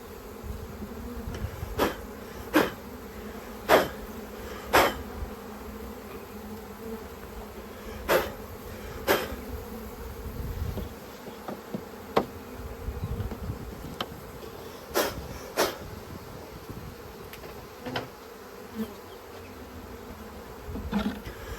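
A swarm of honeybees buzzes steadily inside a swarm trap, making a close, dense hum throughout. Sharp louder passes cut in as single bees fly near, and no one speaks.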